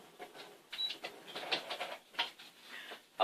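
A sewing machine stitches across the folded top of a fabric shoe bag, giving short, uneven bursts of rapid mechanical clatter at close range, quiet overall and with no talk.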